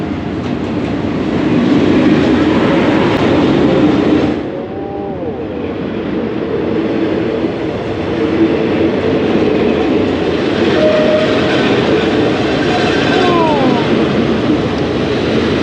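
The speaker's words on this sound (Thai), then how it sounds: "มาแล้วรถไฟ มาจากในเมือง" A commuter train pulls in at Asok station in Thailand: a loud, steady rumble and roll of rail cars that dips briefly, followed by rising brake squeals as it slows, with station crowd noise beneath.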